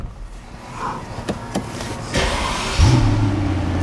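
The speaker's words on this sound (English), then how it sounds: "You can hear that engine just fire right up." A Mercedes-Benz CL600 V12 cranks and fires up nearby, preceded by a few clicks and a whir, then settling into a strong, smooth idle that grows louder toward the end.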